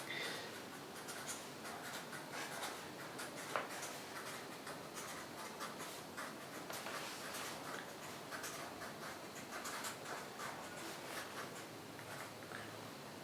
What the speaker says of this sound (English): I'll just write it down and then continue speaking.